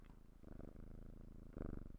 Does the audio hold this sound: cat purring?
yes